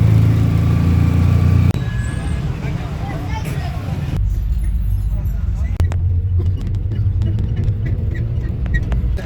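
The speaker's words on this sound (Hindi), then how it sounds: "रिक्शे में बैठ गया हूँ" Steady engine drone and road rumble inside a moving auto-rickshaw on the way toward Peshawar, loud and continuous with a shift in tone partway through and occasional clatter, no talk.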